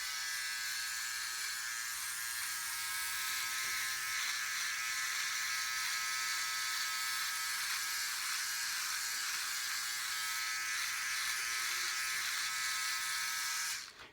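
An electric shaver, either a Philips Norelco OneBlade or a MicroTouch SOLO, buzzes steadily and closely against a face for about fourteen seconds, a continuous motor drone with faint scraping texture, then stops at the end.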